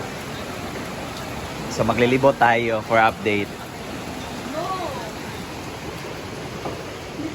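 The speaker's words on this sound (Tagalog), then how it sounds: "Kanina malakas ang ulan, buti ngayon at mahina na" Steady broadband hiss of rain from Tropical Storm Ada falling throughout at a flooded nature park, with a person talking briefly over it in the middle.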